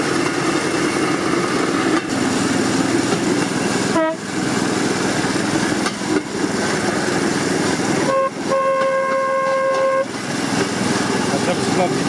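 On the Malaya Oktyabrskaya Children's Railway, a children's railway train sounds its horn twice, first a brief toot and then a sustained blast of about two seconds. Both carry over continuous rolling train noise while people talk.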